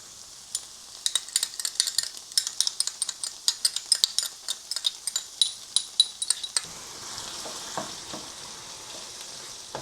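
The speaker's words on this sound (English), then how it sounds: "Stir that all around to cook the tomato paste" Tomato paste cooks in a pot under a faint sizzle while a utensil stirs it with rapid, repeated clinks and scrapes against the metal, close and crisp, then the stirring slows and the soft frying carries on.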